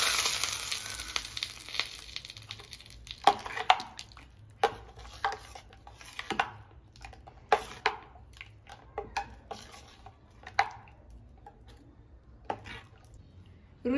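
A tempering of oil, mustard seeds, curry leaves and chillies hits gooseberry tambuli with a brief hissing sizzle, then settles into scattered sharp pops and crackles, close and fairly quiet, with no talking.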